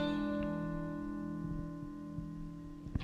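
Three guitar notes of a chord sounding together, sustained and ringing steadily at low volume, with a few faint finger or string noises near the end.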